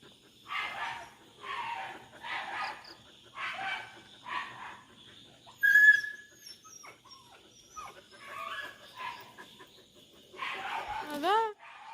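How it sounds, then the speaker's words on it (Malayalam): Dogs, including a German Shepherd, bark in repeated bursts around a home compound, loud and close, with a brief high call and a chicken clucking between the barks. "പട്ടികൾ ബഹളം ഉണ്ടാക്കുന്നു"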